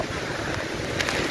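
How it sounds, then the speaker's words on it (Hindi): Strong wind roars steadily near Marve beach by Malwani, Malad, buffeting the microphone in a continuous rush with gusty surges. "काफ़ी तेज हवा आ रही है"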